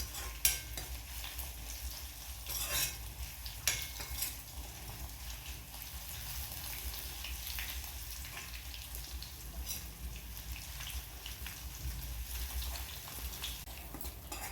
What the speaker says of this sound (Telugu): పోపు మాడనివ్వకుండా చక్కగా వేయించుకోండి.